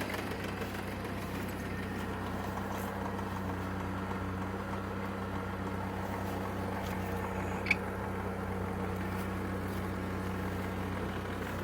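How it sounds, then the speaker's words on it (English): A truck engine idles steadily with a low, even rumble and drone throughout, with one faint click partway through. "The motor sounds good."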